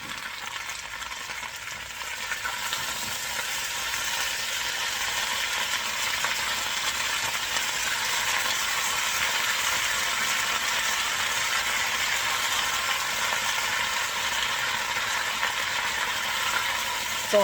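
Sauerkraut and kielbasa fry in a pan with a steady, even sizzle that holds for the full stretch, fairly close and unbroken, with a faint clatter at the very end.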